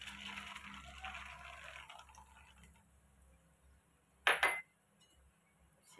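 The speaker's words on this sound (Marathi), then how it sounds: "तेल गरम झाले, त्याच्यात आपण शेंगदाणे टाकू." Peanuts tipped into hot oil in a pan for puffed-rice chivda give a short, sudden burst of clattering sizzle after a quiet stretch, then fade back to a low hiss.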